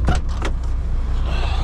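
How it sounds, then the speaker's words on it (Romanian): Handbrake pulled in a dump truck hauling stone from the mountain, a few quick sharp mechanical clicks and ratchets at the start, loud and close inside the cab, followed by low engine hum. "Tragem frâna de mână."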